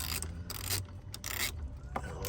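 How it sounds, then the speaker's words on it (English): Car battery terminal being tightened on a 2015 Mercedes CLA 250 4matic, with close ratcheting and scraping metal strokes in short repeated bursts over a steady background hum. "So right now I'm gonna go ahead and put on tighten up the battery"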